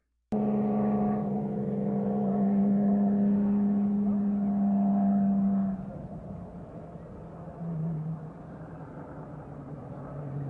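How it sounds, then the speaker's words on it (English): Two Porsche race cars driving carefully on a wet track in the rain, a steady loud engine drone with a strong low hum that drops partway through into a rougher, quieter running sound. "These two Porsches are being very careful."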